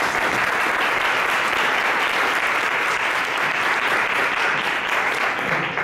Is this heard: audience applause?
yes